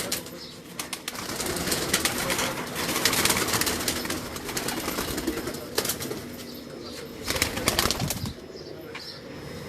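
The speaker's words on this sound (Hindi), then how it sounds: "ये इनके ब्रीडर कबूतर हैं जो उनसे मैं आपको दिखा रहा हूँ" Breeder pigeons on a rooftop coo softly and flap their wings in repeated close bursts, with the birds moving about throughout.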